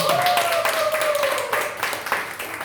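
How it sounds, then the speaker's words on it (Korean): A church congregation at a Sunday worship service breaks into brief, brisk clapping, a rippling round of hands over a lingering tone. "우리 박수로 한번 격려할까요?"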